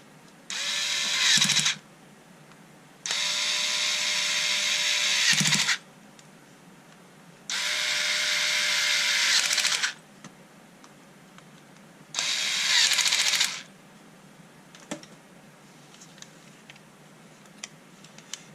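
A Bosch Ixo cordless screwdriver whirs in four separate bursts, each a steady high motor whine lasting about one to two seconds, with quiet pauses between them as screws are driven back in.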